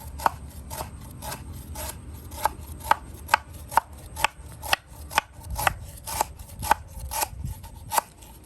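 Steady chopping of vegetables into small pieces for pounding on a board, around twenty crisp close knife strikes at a fairly even pace, with no talking.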